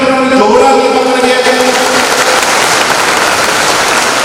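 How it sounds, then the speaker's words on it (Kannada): Crowd applause for kindergarten children at a school inauguration ceremony, a dense, steady wash of clapping that fills the whole span, with a voice briefly over the opening second. "ಒಂದ್ಸರಿ ಕೈ ಚಪ್ಪಾಳೆ ಕೊಟ್ಟರೆ ಜೋರಾಗಿ ಮಕ್ಕಳಿಗೆ."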